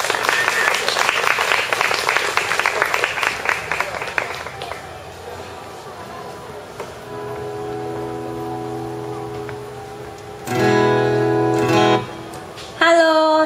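An audience at an outdoor live music event at Tiehua Village claps for the opening band, a dense burst of applause that thins out after a few seconds, followed by quieter sustained tones.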